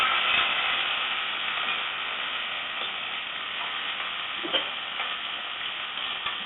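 Cut cabbage stir-frying in a pan over a simple tempering, a moderate steady sizzle with soft hiss and a few stirring knocks, close by and without speech.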